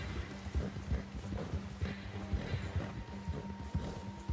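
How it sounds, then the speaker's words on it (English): Horse hooves clip-clopping in the video game Red Dead Redemption 2, a steady rhythmic gallop at moderate volume over a low rumbling game soundscape. "Oh, he's on horseback."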